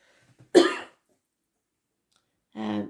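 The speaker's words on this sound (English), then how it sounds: "I'm getting that cough again" Two short bursts of throat sound from one person, a harsh cough followed after a pause by a shorter, rougher throat-clearing cough, both fairly close and alone.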